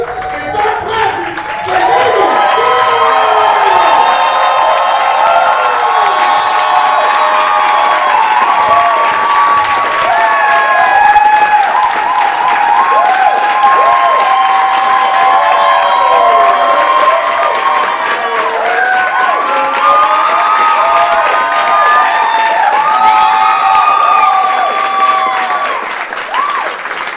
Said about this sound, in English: Right now, get on that motherfucking beat and start clapping.